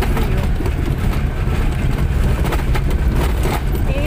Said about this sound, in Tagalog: ang ingay na sasakyan.